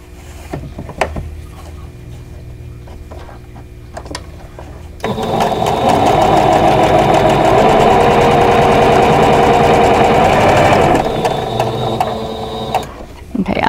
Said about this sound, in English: I'm not pressing anything at this point, but just sewing things together